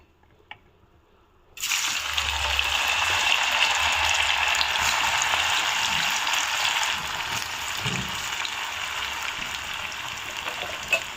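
Potatoes deep-frying in hot oil give off a loud, close, steady sizzle that starts abruptly after a brief quiet moment and runs unbroken to the end, easing slightly in the last seconds, with no talking.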